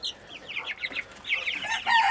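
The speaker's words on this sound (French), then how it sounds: "C'est deux poules. Et normalement, là, j'ai deux coqs." Backyard hens and roosters, including a small frizzled Pekin, cluck in quick bursts of close, busy calls, one rising into a louder squawk at the end.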